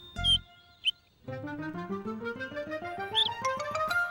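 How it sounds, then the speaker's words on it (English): A short chirp and a faint squeak, then a rapid run of high, piping cheeps from a small bird, rising steadily in pitch, close and fairly clear. "It was the cheeping of a baby bird."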